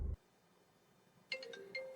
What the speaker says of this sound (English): Now my phone call is coming,